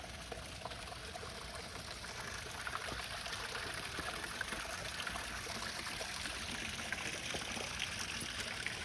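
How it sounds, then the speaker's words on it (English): Small garden fountain at Butchart Gardens, a continuous even trickle and splash of falling water, steady and close, with no voices over it. "So here's another one of the smaller fountains."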